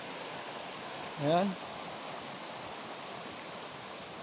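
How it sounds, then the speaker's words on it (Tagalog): Soft, steady water flow hisses evenly in the background while a person briefly speaks over it. "Ingay ng tubig."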